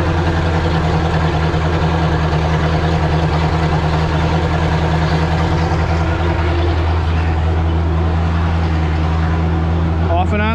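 An inboard/outboard boat engine idles at about 1200 RPM during winterizing, a steady low droning hum that holds evenly throughout, with a brief clatter near the end.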